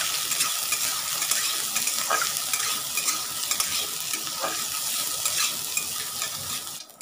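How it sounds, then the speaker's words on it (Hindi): Two large chopped onions frying in a pan in a village-style kitchen, a dense continuous sizzle broken by occasional scrapes of stirring, close and steady throughout with no talking. "अब प्याज को अच्छे तरह से फ्राई कर लूँगी।"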